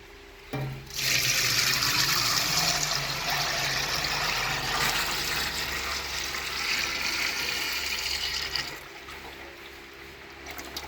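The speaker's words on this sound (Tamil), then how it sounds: "எப்பவும் போல் தேங்காய் எண்ணெய் ட்ரம்மை ஊற்றாக்கு முன்னாடி க்ளீனாக வச்சுருக்கணுங்க" Coconut oil poured steadily into a clean drum makes a loud, continuous liquid gush and splash lasting several seconds before tapering off, with no talking.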